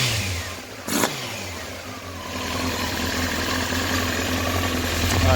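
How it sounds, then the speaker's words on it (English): A 1993 Honda CBR900RR California-spec motorcycle engine idles steadily around 1100 RPM after an idle adjustment, close and constant with a brief blip of revving early on. "Idle should be around 1100 RPM, plus or minus 100. So I try to get it where it should be."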